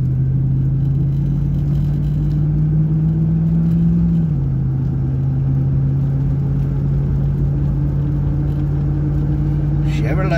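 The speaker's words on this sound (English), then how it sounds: "That's what you're riding in right now, is old Silverado. Mine's a 2000 model though, it's a 20-year-old truck, but it still runs good." Interior of a 2000 Chevrolet Silverado pickup driving, a steady low engine drone and road rumble throughout, with a slight pitch drop midway and a brief noise near the end.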